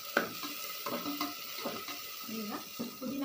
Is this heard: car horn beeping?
no